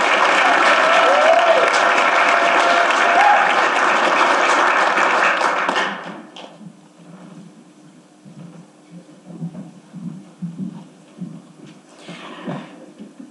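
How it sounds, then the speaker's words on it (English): Sustained audience applause at an urban education symposium, loud and dense for about six seconds before cutting off into a quiet room with murmuring voices and small shuffles. "So let's give a great big round of applause for our first two of our voices from our students, Kea and Justine."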